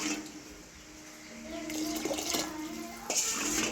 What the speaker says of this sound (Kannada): 1 ಗ್ಲಾಸ್ ಅಕ್ಕಿ ಉಂಟು ಅಂತ ಹೇಳಿದ್ರೆ 2 ಲೋಟ ನೀರು ಹಾಕ್ಕೊಳ್ಳೋದು